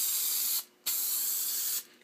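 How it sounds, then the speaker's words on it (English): Two bursts of spray adhesive hissing steadily from an aerosol can onto paper, broken by a short pause, close and fairly loud. "we're just spraying some of the adhesive right onto the paper"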